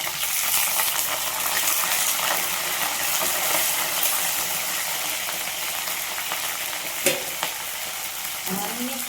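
Onions with curry leaves frying in a pan for a small-fish curry, giving a steady, close, moderately loud sizzle that runs unbroken throughout, with a couple of faint clinks near the end.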